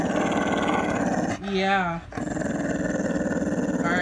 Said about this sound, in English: That's your deep boxer growl.